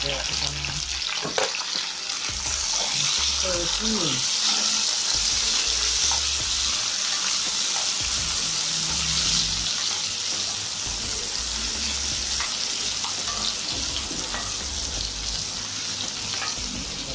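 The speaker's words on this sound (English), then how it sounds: "pepper, sweet pepper, onion, tomato, garlic. Add that to it." Sweet pepper, onion, tomato and garlic sizzle and fry in a pot for a Jamaican-style corned pork cook-up: a steady, loud hiss with occasional stirring clatter, continuous for the whole stretch.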